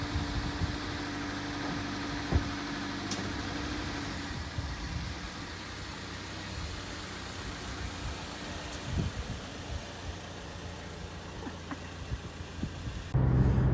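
Steady car engine and road rumble at about 64 mph on a two-lane road during a road test of a car carrying a lighted Christmas tree, continuous and fairly loud throughout, with a thump near the end.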